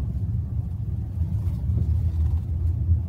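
Steady low rumble inside a 2025 BYD Dolphin Surf electric car rolling over bumpy road, with dull thuds blending into continuous road and tyre noise, fairly loud and without talk.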